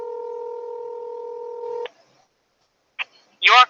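A phone call being placed: a steady two-tone dial tone holds, then cuts off, followed after a pause by a short tone burst and a brief voice-like chirp on the line, clear and close.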